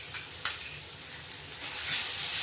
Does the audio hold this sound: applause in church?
no